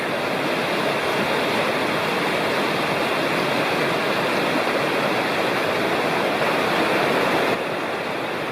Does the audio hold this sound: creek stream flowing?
yes